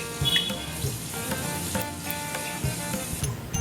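Masala paste with asafoetida and cumin sautés in oil, a lively, close sizzle with stirring scrapes and spatters throughout, no talk.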